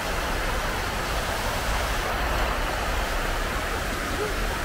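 Small waterfalls in a hotel garden give off a steady, dense rush of falling water, broad and continuous, with traffic-like noise blended in.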